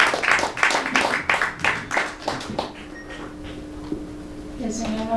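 Church congregation clapping for the Lord at a quinceañera reception, a run of loud rhythmic claps lasting about three seconds, then fading out under a low hum and a voice.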